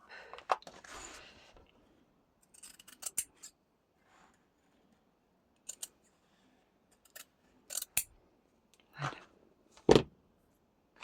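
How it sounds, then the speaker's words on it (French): Scissors snip a small square of faux-leather fabric for a jute bag. Scattered crisp cuts and clicks come close, in irregular bursts with quiet gaps between them, and one louder snap near the end. "je vais pouvoir déjà découper mon petit carré. Voilà, je le coupe."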